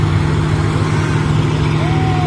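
A truck on a hill road drones loudly and steadily up close while overtaking, a low engine hum filling the short stretch and a faint rising whine appearing near the end.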